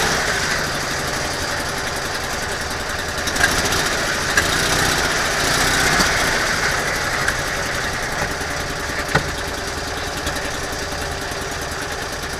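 A small Invacar engine idles and runs steadily in reverse, a continuous buzzing, slightly knocking drone close to the microphone with a few faint clicks and no talk.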